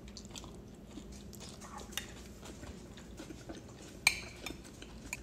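Someone chews a big bite of a homemade chipotle-style rice bowl dressed with Tabasco, producing quiet, close, moist chewing sounds mixed with light cutlery clinks and one sharper clink near the end.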